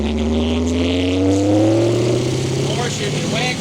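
A car with newly installed rear gears, suspension and brakes drives on a road to break the gears in. Its engine drones loud and close throughout, pitch climbing steadily as it accelerates, with no break in the sound.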